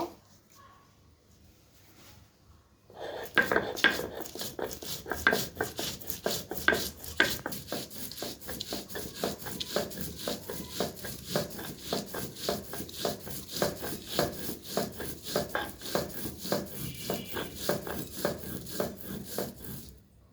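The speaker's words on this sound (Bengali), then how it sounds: "কয়েকটা গোটা শুকনো মরিচ এগুলো এখন আমি বেটে নিব" Whole dried chillies with cumin and coriander ground by hand on a grinding stone, a steady rhythmic rasping scrape starting after a quiet opening and continuing close and moderately loud to the end.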